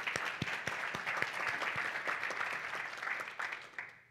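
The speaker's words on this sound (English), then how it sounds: "So I want to give them a round of applause." At a community forum event, an audience claps for a round of applause: a brief, moderately quiet patter of clapping that fades toward the end.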